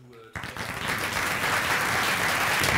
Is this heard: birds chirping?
no